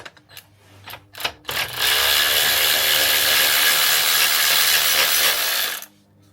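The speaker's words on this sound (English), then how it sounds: "I've got a DeWalt ratchet." A DeWalt cordless ratchet runs in one steady, loud mechanical whir for about four seconds on a Vauxhall Corsa D lower gearbox mount, after a few short clicks and knocks, then stops abruptly.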